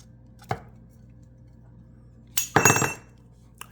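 Material being cut for a model railroad flatcar load on a workbench, a single sharp tap early, then a brief loud crunching snap of the cut lasting about half a second, with a faint click after, no talking.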